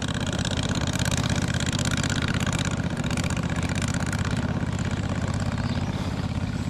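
A boat engine chugs along a canal, a steady, close, low mechanical throb with a rapid even pulse, loud and continuous with no talk.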